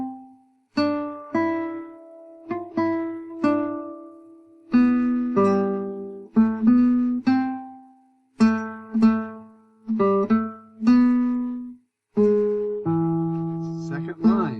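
Guitar plucks the first line of Greensleeves as a slow sequence of single notes and small chord shapes, each ringing and decaying, with short gaps between phrases and no voice over it.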